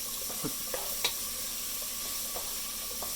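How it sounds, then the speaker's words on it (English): Onions sizzle in a soup pot while being stirred for homemade chicken soup, with a continuous frying hiss broken by a few light scrapes and clinks of the spoon, close and fairly quiet. "give it a good stir"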